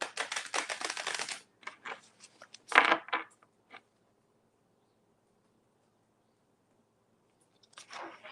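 Tarot cards being shuffled by hand at close range: a quick run of crisp riffling and rustling at the start, one sharper slap-like burst, a few soft taps, then a long silence and a short final rustle.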